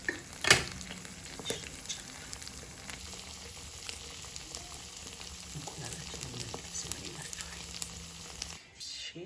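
Eggs frying in a little oil in a hot pan while cooking a pea stew breakfast, a continuous crackling sizzle with occasional stirring scrapes, close and steady, ending abruptly.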